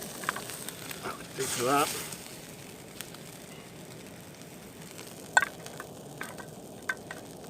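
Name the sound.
bacon frying in a saucepan at a wild camp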